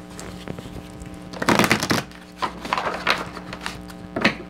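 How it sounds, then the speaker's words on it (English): Tarot cards being shuffled in several short riffling bursts, the loudest in the middle, against a steady low hum, with no voices. "We'll just give a little shuffle."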